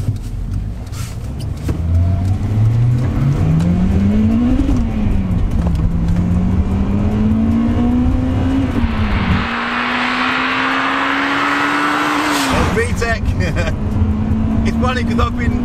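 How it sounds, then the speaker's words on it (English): A Honda Civic Type R VTEC engine revs up and down through gear changes while driving, a high whine climbing and dropping, with a rushing burst of air before it pulls away again. "let's hit the roads and see what this VTEC's saying"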